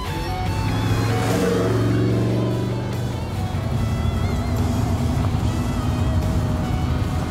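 A classic off-road truck engine, from either a vintage Ford Bronco or a Toyota Land Cruiser, revs up loudly and close, then holds a rough, steady roar for several seconds with no talking over it.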